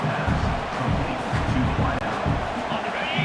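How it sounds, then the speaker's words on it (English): A college football stadium crowd roars loudly and steadily, swelling in volume before a second-down snap, with a broadcaster's voice talking over the dense, continuous noise. "this crowd is turning it up a notch"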